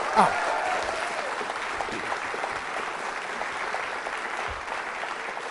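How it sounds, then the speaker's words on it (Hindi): An audience at a college Valentine's Day quiz show breaks into steady, even applause, with a voice briefly audible at the start. "तालियां बजाइए इस जानकारी के लिए"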